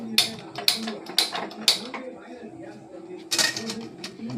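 A kitchen gas stove is turned on, with several sharp metallic clicks from the ignition knob in a regular rhythm. The clicks sound close, and a final burst follows them while faint speech runs underneath.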